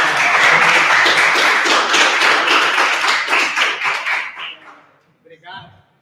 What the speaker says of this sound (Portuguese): Eu pedi uma salva de palmas